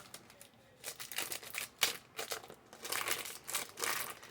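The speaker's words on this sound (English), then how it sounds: "So I am going to unwrap for y'all on today." Plastic wrapping on a Bon Chic perfume box is torn and crinkled open in several close, faint bursts of crackling rustle with short pauses between, and no talking.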